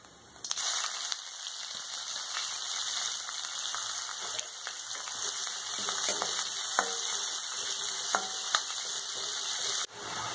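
Chopped onions and green chillies with cumin sizzle in hot oil, a steady crackling fry broken by occasional scrapes and stirs of a spoon, close up, with no talking.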